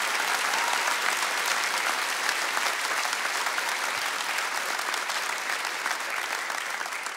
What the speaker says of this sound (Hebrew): בחיות כפיים סוערות למלחינה של הקטע הזה, נמי מלומד